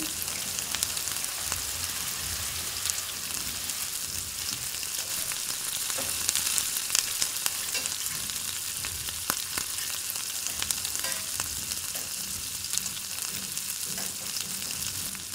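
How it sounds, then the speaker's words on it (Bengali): Fish head masala for katla macher matha sautés with a splash of water, a dense continuous sizzle and bubbling hiss with faint stirring, alone and without talk. "আর অল্প জল দিয়ে এটাকে কষাতে দিয়ে দিচ্ছি।"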